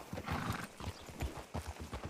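A horse's hooves clop in an uneven rhythm on hard ground, with a snort or whinny-like breath mixed in, close by and moderately quiet, with no talking.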